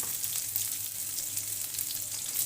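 Chopped small onions hit hot oil in a pan while cooking an eggplant dish, giving a steady, close, continuous sizzle with a bright hiss and no pauses or voices.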